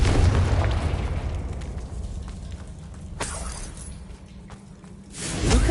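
A Confringo fire spell bursts in Hogwarts Legacy, a booming blast with crackling debris, followed by rumbling aftermath and a second swelling surge at the end.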